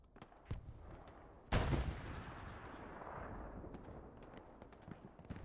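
A grenade bursts in a video game scrim with a sudden heavy boom that rolls off into a rumbling tail, set among faint scattered gunshots in the background.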